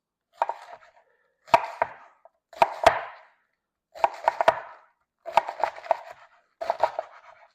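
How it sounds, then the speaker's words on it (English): A knife cutting a vegetable into strips for beef borscht on a cutting board: six separate bursts of quick, crisp chops, each two to four strokes, close and clear with silence between. "then I'm going to cut it into strips"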